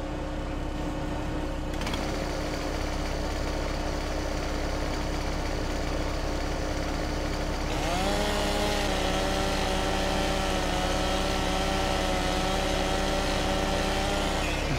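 A chainsaw in Farming Simulator 17 hums at a steady idle with an engine drone underneath, then revs up into a higher, sustained cutting whine halfway through as the tree is cut down.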